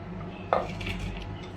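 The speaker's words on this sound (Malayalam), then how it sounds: "എല്ലാം ചട്ടിയിലേക്ക് ഇട്ട് കൊടുക്കുന്നുണ്ട്." Chopped ingredients, including small shallots, tipped into a cooking pot for a raw mango and anchovy fish curry, giving one clear clattering thud followed by a brief settling rustle, fairly close and alone without talk.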